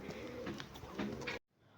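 A pigeon coos nearby in soft, repeated throaty calls, steady for over a second before the sound cuts off abruptly.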